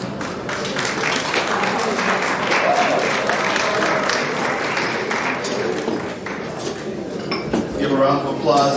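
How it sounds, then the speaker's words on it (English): Applause from an awards-gala audience as presenters leave the stage, a steady dense clapping wash that fills the room continuously, with faint clinking of dishes and cutlery mixed in. "round of applause as they get off the stage."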